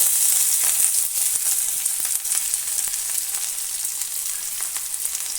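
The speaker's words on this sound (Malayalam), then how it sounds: "ഇനി ഇതിലേക്ക് ചെറുതായിട്ട് അരിഞ്ഞെടുത്ത ഒരു ഉരുളക്കിഴങ്ങ് നമുക്ക് ചേർത്ത് കൊടുക്കാം." Chopped potato sizzling in hot oil with dried chillies and curry leaves, a bright steady crackle with occasional stirring scrapes, close and unbroken.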